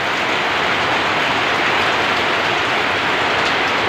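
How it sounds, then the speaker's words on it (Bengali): Heavy rain pours down in a dense, unbroken hiss, loud and close, with no pauses across the few seconds. "দেখ বৃষ্টিটা দেখতে পাচ্ছ কত পরিমাণে জল পড়ছে এই দিকটায়"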